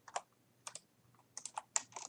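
A computer keyboard is handled and typed on in short clusters of close, crisp key clicks separated by brief pauses, quiet and alone with no talking.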